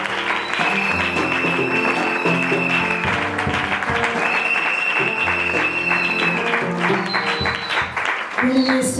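A church congregation applauds loudly and continuously during a French-language service, dense clapping that persists for the whole stretch, with sustained musical tones and voices mixed in beneath.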